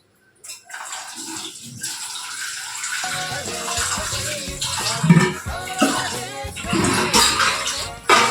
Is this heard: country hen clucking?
no